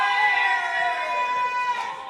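Crowd at a snooker match cheering and murmuring after a player's missed shot, a steady wash of many voices sustained throughout at moderate distance.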